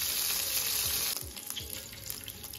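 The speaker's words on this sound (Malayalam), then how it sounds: "ഒന്ന് ഷാലോ ഫ്രൈ ചെയ്താൽ മതി" Marinated chicken shallow frying in butter gives a bright steady sizzle that drops suddenly partway through, leaving a quieter crackle with a few soft clinks, close and without talk.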